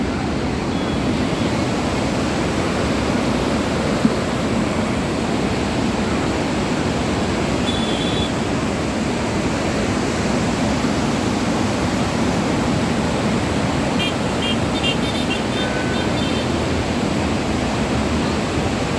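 The flooded Godavari river at Panchavati, seen from the Ahilyabai Holkar bridge, roars as a loud, continuous broadband wash of rushing water, with faint distant chirps and no voices.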